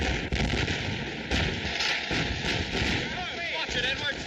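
Gunfire from weapons in a war movie with soldiers firing on command: dense, continuous cracking and booming shots, loud and close, layered with shouted orders and battle noise.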